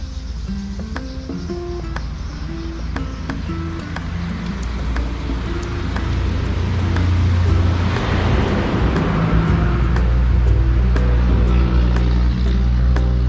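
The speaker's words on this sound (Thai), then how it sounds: "เสียงรถยนต์มารบกวนนะเพราะว่าผมอยู่ติดถนนเลยนะครับ" Cars pass on a road running beside the Raphiphat irrigation canal, a steady roadside rumble that swells louder toward the end, with no talking.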